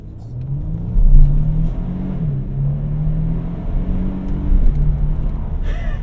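A 2025 Nissan Armada Platinum Reserve accelerates from inside the cabin: a smooth, steady engine hum that rises and swells in pitch, moderately loud with a low rumble underneath.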